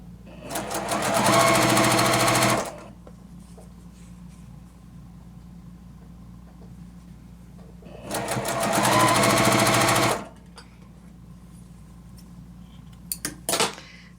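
A sewing machine stitches quilt block pieces together for a flower block in two loud, steady runs of about two seconds each, separated by a quieter pause, with a few sharp clicks of handling near the end.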